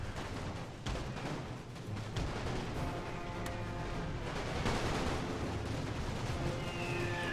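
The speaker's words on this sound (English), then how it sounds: "As you can see, the mortars and the howitzers are just too much for him to handle." Mortar and howitzer fire from a World War I strategy game, with repeated booming blasts overlapping in a dense, continuous barrage, loud and steady with no voices.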